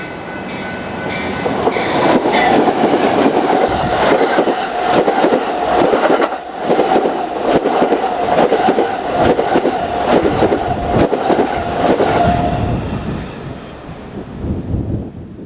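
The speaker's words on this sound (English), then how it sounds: "A slightly late eastbound California Zephyr is next behind two Amtrak P42 DCs." An eastbound Amtrak California Zephyr passenger train hauled by two P42 DC locomotives rolls past close by, a loud sustained roar of wheels and rail noise with a steady tonal hum and rapid clattering, easing off toward the end.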